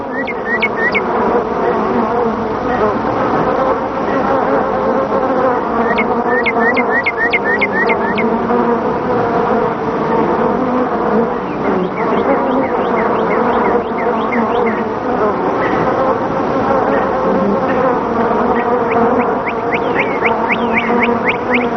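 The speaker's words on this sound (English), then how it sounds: "swarm out of the hive to seek a new home, accompanied by the old queen" A dense, continuous buzzing of a honeybee swarm leaving the hive with the old queen fills the air, steady and loud, with occasional faint chirps from birds in the background.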